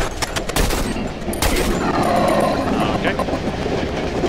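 Gunfire in the horror video game Cry of Fear rings out as a few sharp bursts of shots near the start, followed by a rumbling, train-like background that carries on afterward.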